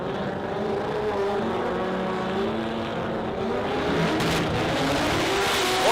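Sports compact drag racing cars, one a rotary 13B, launching hard off the line at an Adelaide drag strip, engines roaring and revving with rising pitch and faint tire chirps, loud and continuous with no voices.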